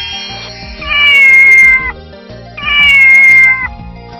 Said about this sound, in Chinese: 小猫的声音。